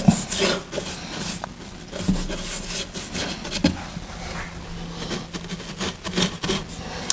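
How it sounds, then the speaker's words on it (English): Stain being rubbed by hand onto freshly cut wooden parts of a tray, a close, continuous scratchy rubbing with short strokes and faint knocks, no voices. "go through and put some stain on the parts that, have been cut"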